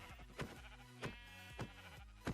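Sheep bleat repeatedly in the Minecraft video game, several wavering cries in quick succession over a steady background hum of game audio.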